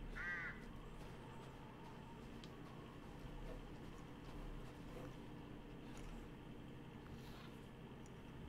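A single crow caws once near the start in the video game Resident Evil Village, set against a low, steady ambient drone that continues alone afterward.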